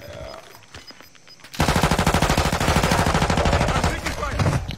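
RPK machine gun fire in the video game Warzone: a loud, rapid sustained burst of automatic shots with an even rhythm, starting abruptly after a quieter stretch and lasting to the end.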